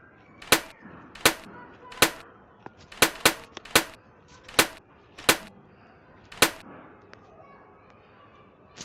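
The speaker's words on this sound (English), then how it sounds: "Anyways, moving to the shooting. Single fire." A cardboard Thompson M1928 airsoft gun fires single shots, about a dozen sharp, loud cracks spaced unevenly, some in quick pairs, with quiet gaps between them.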